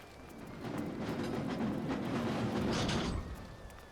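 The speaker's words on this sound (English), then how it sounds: "So the train shows up when you automatically get up there" A train pulls in within Costume Quest, a steady rumbling and clattering rise that swells for a few seconds and then fades, heard alone without talk.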